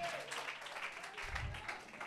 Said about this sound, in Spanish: Dale aplauso a papá Dios